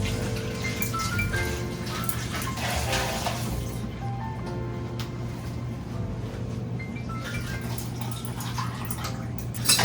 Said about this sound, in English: we are just going to pour our already stirred liquid on it.